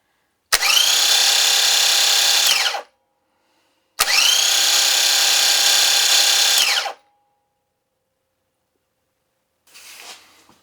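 A starter motor on a bench test whirs loudly in two bursts, each spinning steadily for a few seconds before cutting off, with a faint brief rattle afterward.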